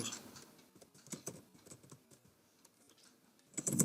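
Computer keyboard keys tapped in quick, irregular bursts, with an Enter press among them, close and fairly quiet, ending in a couple of louder strikes.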